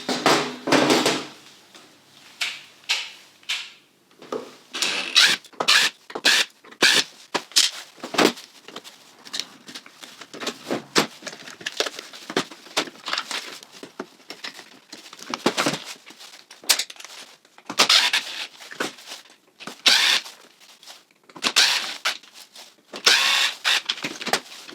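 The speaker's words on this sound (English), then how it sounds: "I'm now going to remove the motors from both robots so we can take a closer look and compare them." Parts are pulled from Husqvarna Automower 310 and Ambrogio Twenty Deluxe robotic lawnmowers to remove their motors, giving a string of sharp plastic clicks, snaps and handling knocks, close and irregular, with no talking.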